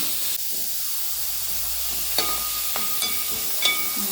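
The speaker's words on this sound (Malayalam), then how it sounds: "നമുക്ക് കൊത്തി അരിഞ്ഞ് വെച്ച സവാള നന്നായിട്ടൊന്ന് ഇളക്കി കൊടുക്കാം" Chopped onions frying in a pan give a steady sizzling hiss, with a few sharp scraping clinks of a spoon as they are stirred.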